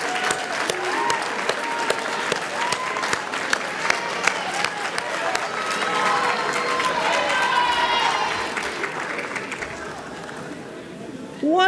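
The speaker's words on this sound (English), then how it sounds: "Can we have a round of applause" A large audience at a school speech night gives a round of applause for the instructors, sustained dense clapping with some cheering that swells in the middle and fades toward the end.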